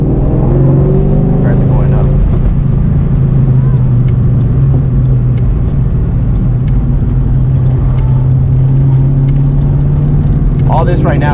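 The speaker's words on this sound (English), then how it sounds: "All this right now is in second gear, so I think this is one of the tighter corners." A 2003 Ford Mustang in second gear through tight canyon corners, heard from inside as a loud, steady engine drone with road noise, while a person talks briefly over it.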